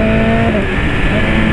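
A motorcycle engine revving hard with a tonal pitch that shifts as gears change, loud and close, a continuous roar with no talk.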